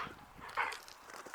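Dogs bark outdoors near a chicken coop, one loud bark standing out in the middle over scattered quieter yips and rustling.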